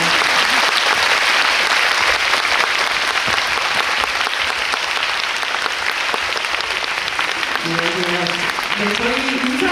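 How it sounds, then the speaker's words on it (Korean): A theatre audience at a Busan International Film Festival screening Q&A applauds to welcome the film's director and actress: dense, loud, sustained clapping that fills the room throughout, with a voice starting to talk near the end. "큰 박수로 맞이해 주시기 바랍니다."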